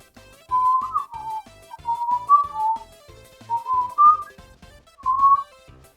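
A person whistles a short melodic tune in clear, pure phrases separated by pauses, close and alone, with faint background sounds underneath.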